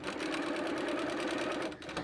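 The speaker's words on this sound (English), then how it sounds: "So you just sew to where your clip is and remove it, much like pins." Sewing machine stitching quilt fabric held together with clips, a close, continuous rapid mechanical whir that runs steadily and dips briefly near the end.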